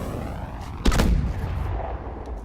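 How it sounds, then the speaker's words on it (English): A smart grenade detonates in Call of Duty: Advanced Warfare during grenade training, a single sharp blast near the one-second mark that rolls into a rumbling tail over steady background ambience. "Toss a smart grenade and aim at a target to guide"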